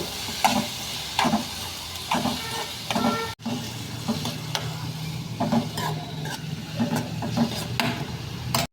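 Vegetables with tomato and garlic sautéing in hot oil, a steady low sizzle under repeated scraping stirs of a spatula in the pan, with a brief cut partway through.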